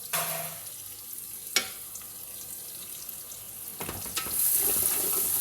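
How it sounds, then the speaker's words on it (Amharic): Chopped onion and carrot fry in a pan with earlier-fried ginger for Chinese-style rice, a steady close sizzle with a couple of sharp stirring knocks and a louder hiss building near the end, no voices. "እዚህ ጋር ደግሞ ሽንኩርት አለኝ። በካሮቱ አብሬ ጠብሰዋለሁ።"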